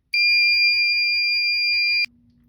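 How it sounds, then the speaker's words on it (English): A Fire-Lite MS-5UD fire alarm control panel gives a loud, steady electronic tone for about two seconds during a system reset, then cuts off abruptly, leaving near silence. "now I'm going to go into the fire alarm control panel and hit system reset."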